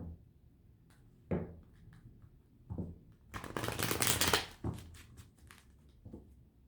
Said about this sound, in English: a couple more shuffles here.